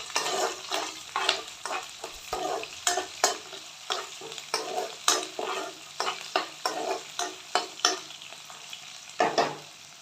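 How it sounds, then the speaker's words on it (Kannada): Garlic, cumin, mustard seeds, green chillies and curry leaves frying in oil, a continuous sizzle broken by rhythmic scraping stirs of a spoon in the pan, close and moderately loud. "ಬೆಳ್ಳುಳ್ಳಿ ಜೀರಿಗೆ ಸಾಸಿವೆ ಮೆಣಸಿನ್ಕಾಯಿ ಕರಿಬೇವು ಎಲ್ಲ ಹಾಕ್ಬಿಟ್ಟು ನೀಟಾಗಿ ಫ್ರೈ ಮಾಡೋದು"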